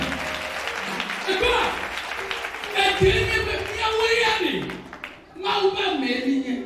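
A congregation at a religious convention applauds to acclaim the Lord, with bursts of clapping rising and falling under a loud voice speaking over the crowd.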